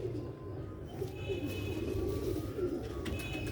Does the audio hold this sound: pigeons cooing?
yes